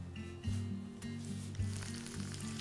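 Crushed garlic sizzles in hot oil, a steady low frying hiss with a few soft bursts and stirring bumps, close and fairly quiet with no voices over it.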